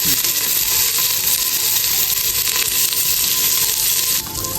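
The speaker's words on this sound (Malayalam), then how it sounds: "അരിഞ്ഞു വെച്ച ഉള്ളി ഇടുക. എന്നിട്ട് നല്ലോണം" Chopped onion sizzles steadily in a hot pan, a dense, loud frying hiss with faint scraping clicks throughout, dropping off abruptly near the end.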